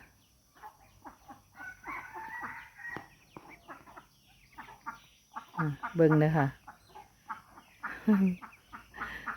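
Bantam chickens cluck in a backyard, scattered short clucks and a couple of louder calls near the end, while someone talks over them.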